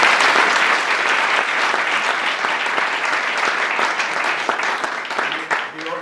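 An audience at an awards ceremony for under-16 and under-18 snare drumming events applauds the stewards, with dense, sustained clapping that stays loud and steady throughout before easing slightly near the end.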